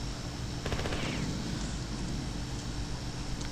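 Assault rifle fire in the sci-fi shooter Marathon: Durandal, a dense continuous burst of rapid shots layered over steady game ambience, fairly loud and sustained throughout.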